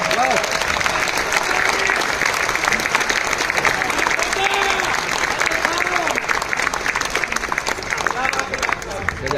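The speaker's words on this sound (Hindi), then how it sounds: "आप लोग उन लोगों के लिए तालियां बजा सकते हैं" Dense, loud applause from an audience at an Indore program for team members, steady clapping throughout with crowd murmur and cheering voices mixed in.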